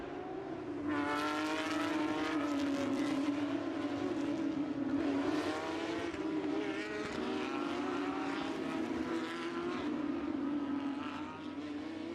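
Porsche GT3 Cup race cars running in a pack behind the Porsche safety car at Michelin Raceway Road Atlanta, their engines a loud, steady, continuous drone with a rising and falling note, no voices over it.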